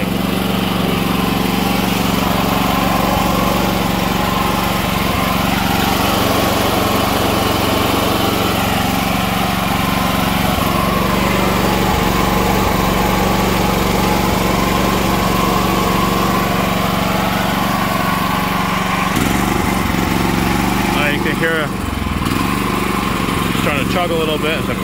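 A 120/240 volt inverter generator engine runs steadily up close, a loud continuous drone with a faint shift and some clatter near the end as the carburetor empties.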